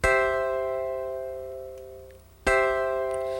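A sustained keyboard chord in second inversion rings out and slowly fades, then the same chord is struck again and held, clear and close with no voices.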